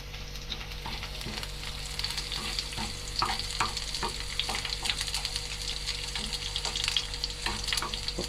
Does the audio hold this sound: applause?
no